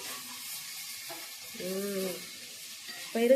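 Potato pieces frying in a generous amount of oil while being stirred give a steady soft sizzle, with a few brief tonal, voice-like sounds rising over it.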